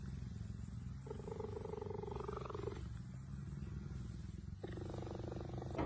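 A cheetah purring in a steady, rumbling loop close by, with continuous low throaty vibration and a brief higher vocal tone partway through, heard alone without talk.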